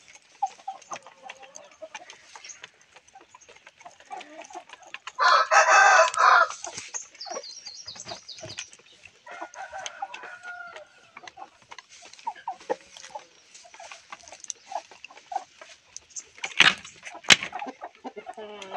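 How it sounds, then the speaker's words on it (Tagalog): Native chickens in a backyard breeding pen cluck softly throughout, with one loud rooster crow near the middle and scattered sharp calls later, no voices. "Yan po ang aming mga manok."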